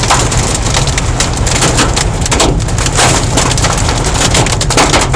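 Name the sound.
large hail falling in a freak hailstorm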